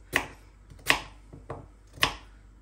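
A knife cubes swede (rutabaga) on a board with four sharp, close chops at an irregular pace, alone and without talk.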